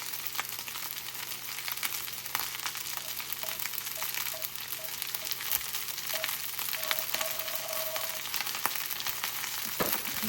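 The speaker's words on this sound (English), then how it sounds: "Now we're gonna fry our 2 eggs" Two eggs fry in hot oil poured into a well in the middle of rice, giving a steady close sizzle with scattered pops and light stirring scrapes, no voices.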